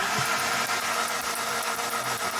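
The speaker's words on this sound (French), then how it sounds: "Vas-y, essaie un peu de démarrer." Alfa Romeo 75 engine cranking as it tries to start, a steady dense mechanical churn with vibration that runs unbroken and fairly loud, close by, no voices over it.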